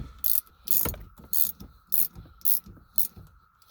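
A ratchet clicks in short, evenly spaced bursts, about seven in all, while tightening a rear shock nut on a 2010 Lincoln MKT. The sound is close and sharp, with quiet gaps between strokes.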